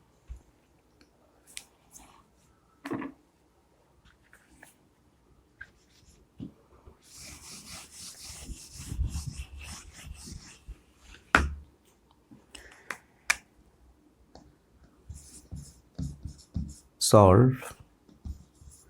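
A math problem being written on a board for a second-order differential equations lesson: scattered soft scratches, taps and brief rubbing strokes, irregular and fairly close, with a person speaking in between.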